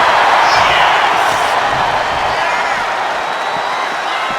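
Loud, continuous roar of an arena crowd cheering at a wrestling match in the video game Smackdown, a dense wash of voices swelling at the start and easing slightly, with commentary-like talk mixed underneath.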